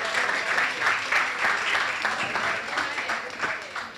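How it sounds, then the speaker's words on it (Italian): Audience applause at an evening charity event in a hall, loud and fairly close, with distinct claps pulsing through the dense clapping over a few seconds. "un applauso per Anna Maria."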